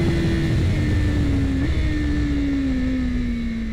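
A 2024 BMW M 1000 RR sportbike on a racetrack gives a steady, loud engine drone that holds a high even pitch and dips slightly partway through, with constant wind and road noise and no talking.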